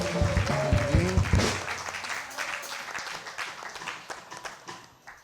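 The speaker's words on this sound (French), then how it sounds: "Est-ce qu'on peut encore acclamer pour le papa?" A church audience applauds a pastor at a Bible seminar. Loud clapping breaks out together with cheering voices, then thins into scattered claps that fade away.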